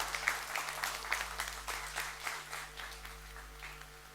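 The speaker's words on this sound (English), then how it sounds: "With a huge round of applause and welcome them" Audience applause at a crime series trailer launch event, a continuous wash of clapping from a crowd, moderately loud and steady with slight swells, over a low hum.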